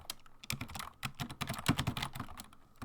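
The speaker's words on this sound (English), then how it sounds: "understand that it's going to take a long time to type this" Rapid, uneven clatter of keys as code is typed on a computer keyboard, close and fairly quiet, with short pauses between bursts and no talking.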